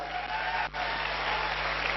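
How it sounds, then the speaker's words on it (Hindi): A crowd at a motivational testimony gathering applauds the company with a steady, even wash of clapping. It is moderately loud with a faint low hum beneath and one brief dip partway through. "सबसे पहले तो कंपनी के लिए सबसे जबरदस्त वाली ताली बनती है भाई"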